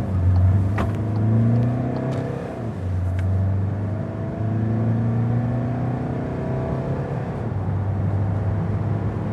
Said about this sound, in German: Auto ist warm, wir müssen zu einem Stoppschild und wollen dann natürlich zügig in das Verkehrsgeschehen uns einfädeln.